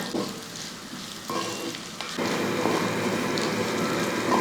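Sliced onions and green chillies fry in a pan for an egg street-food dish, giving a continuous close sizzle with stirring that grows louder and denser about halfway through, and no one speaks.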